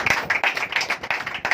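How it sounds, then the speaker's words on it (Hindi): A congregation claps loudly at a Sunday Holy Communion church service. The hand claps are sharp and come in quick, rhythmic unison bursts, close and energetic, for a second and a half. "प्रभु के लिए जोरदार तालियां।"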